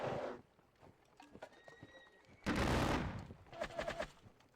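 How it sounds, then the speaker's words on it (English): Musket volleys crackle in a Napoleonic war video game, with a sharp burst of massed fire followed by scattered ragged shots amid horse sounds and faint background noise. "Open fire on them."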